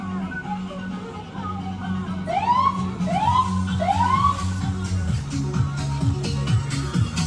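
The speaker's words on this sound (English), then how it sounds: "we're gonna give him a little siren on our way out" A Ramsey County sheriff's patrol car sounds its siren in a few short rising whoops, loud and nearby, over a steady rumbling engine idle.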